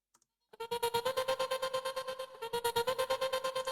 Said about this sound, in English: It's like a stutter effect